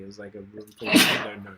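A single loud, sharp sneeze bursts out close to the microphone in the middle of people talking.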